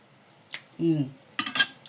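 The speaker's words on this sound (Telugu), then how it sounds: "తర్వాత కర్రీ ఇంకొక స్టీల్ గిన్నెలో తీసేస్తాను." Curry is moved from a cooking pot into a steel bowl: a few sharp metallic clinks, a short tonal scrape, then a quick cluster of louder clanks close by.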